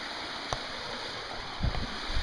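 Water running through a large culvert under a backyard, a steady rushing wash heard close and alone, with a few low knocks and bumps near the end.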